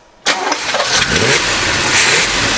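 A 1960s luxury car's heat-soaked engine cranks and catches abruptly after a moment of quiet, then roars into a loud, rough idle that holds steady.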